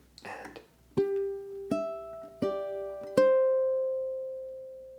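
Fingerpicked ukulele plucks four clear notes, each ringing out and overlapping, with a brief soft rustle or murmur before the first pluck; the final note sustains and fades slowly.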